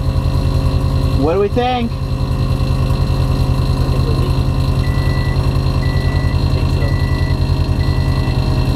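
An Airlift 3P air suspension compressor runs to fill the air tank, a loud constant mechanical drone with a short spoken question early on and faint intermittent beeps later.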